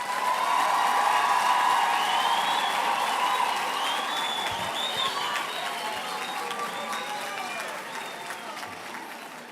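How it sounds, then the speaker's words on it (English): Sustained applause for graduates at a university graduation ceremony on a Vanderbijlpark campus, a large hall crowd clapping steadily with a few whoops, slowly tapering in volume. "It is fitting at this time for us to give a collective round of applause"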